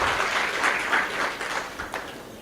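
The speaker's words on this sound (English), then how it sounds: "Let's give them a round of applause." A short round of applause from an audience at a community development foundation event, a crowd of hands clapping together and gradually tapering off.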